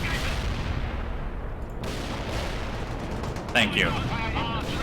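Missile strikes hitting tanks in the RTS World in Conflict: Soviet Assault, muffled explosive blasts and gunfire rumbling at moderate distance, with a brief spoken voice near the end.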